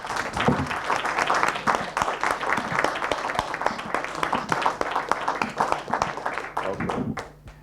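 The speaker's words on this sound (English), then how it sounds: "if we make a loud enough applause, she will hear it through the door" An audience at a workshop's closing session bursts into sustained applause, dense overlapping clapping lasting several seconds at moderate loudness before tapering off at the end.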